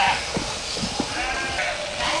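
Sheep bleat repeatedly on a farm shearing day with a large ram being shorn, several short calls rising over a steady background hum and handling noise, no clear talk.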